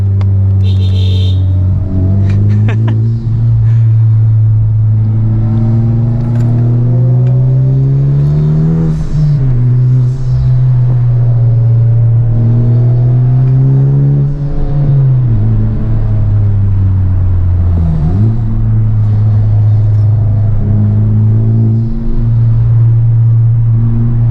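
A ninth-generation Honda Civic Type R engine accelerating from inside the car, a loud droning rumble that climbs in pitch, drops at each gear change and climbs again through several pulls.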